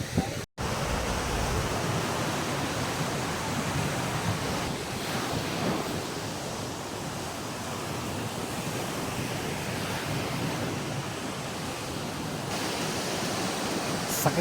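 Ocean waves crash and wash on a beach in San Juan, La Union, with a loud, continuous roar of surf mixed with wind buffeting the microphone throughout.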